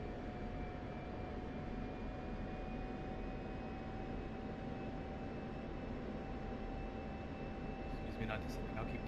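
Jet aircraft engine in a flight simulator game, a faint, steady whine and rumble with thin sustained tones running evenly throughout, and a brief scratchy rustle near the end.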